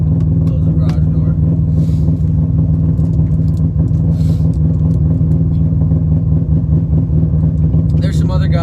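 A loud car engine idles while warming up on a cold morning, a steady droning rumble with a constant low hum held close and unbroken for the whole stretch.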